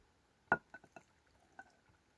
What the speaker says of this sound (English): So I have a little bit of juice left over. I'm going to pour that in.